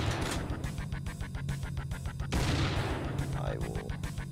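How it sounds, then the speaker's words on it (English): Repeated shotgun blasts from the Shotgun Master video game fire in quick, even succession over a steady low game soundtrack, with one bigger boom midway and a fainter sweep trailing after. "I'll do it with a shotgun, though."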